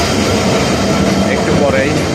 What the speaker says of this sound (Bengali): আমার কাঙ্ক্ষিত ট্রেন সোনার বাংলা এক্সপ্রেস এইমাত্র প্ল্যাটফর্মে প্রবেশ করলো।